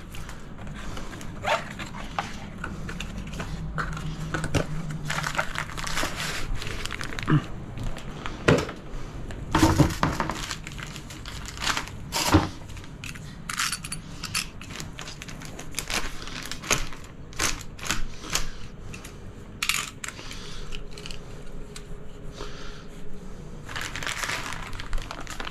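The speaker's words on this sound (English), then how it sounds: "Give it a bit of a stir up." A knife stirs and scrapes through grout mix in a container, giving intermittent scraping and clicking strokes at an irregular rhythm, close to the microphone and fairly quiet.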